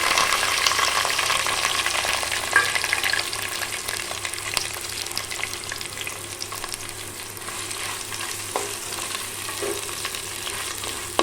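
Small onions sautéing with fennel seeds in a pan, a loud close sizzle and crackle with occasional stirring scrapes, continuous and without speech.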